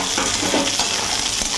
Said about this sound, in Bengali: এরপরে ক্যাপসিকাম কুচিগুলো দিয়ে দিচ্ছি আর এর সঙ্গে টমেটো কুচিগুলোও দিয়ে দেবো আর লঙ্কা কুচিগুলোও দিয়ে দিচ্ছি